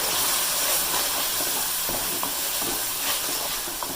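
Spice masala with cumin powder and salt frying in a pan, a dense, steady hiss of sizzling oil with a few faint stirring taps, close and constant.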